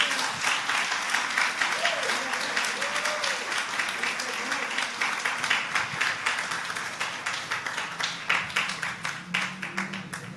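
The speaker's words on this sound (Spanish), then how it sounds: "Dale un aplauso al Señor." A church congregation claps steadily for several seconds in a dense, sustained wave of applause, with a voice speaking faintly beneath it.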